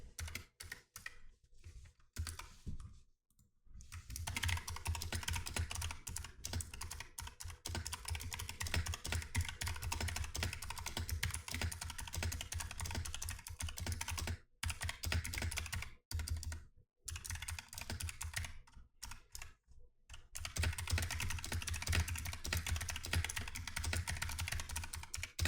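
Rapid typing on a computer keyboard, close and fairly quiet, runs in dense bursts of key clicks broken by a few short pauses, with no voices.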